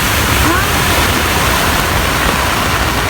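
Floodwater flows through a street in Dubai, a loud, close, unbroken rushing roar of moving water from start to finish.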